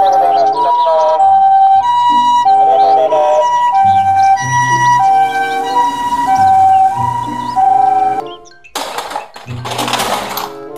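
A toy ambulance plays a loud electronic siren in a repeating two-tone pattern, bright and near, then breaks off into a burst of harsher noise near the end.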